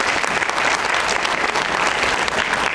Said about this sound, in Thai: ขอเสียงปรบมืออีกครั้งให้กับทั้ง13บทเพลงในวันนี้ด้วยค่ะ